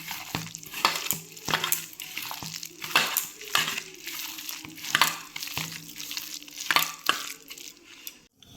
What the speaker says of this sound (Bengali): এটা হাত দিয়ে একটু ভালো করে মেখে নিই। হাত দিয়ে মাখছি।